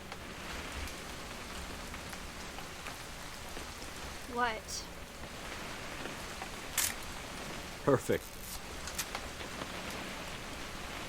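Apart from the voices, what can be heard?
rain falling in the video game What Remains of Edith Finch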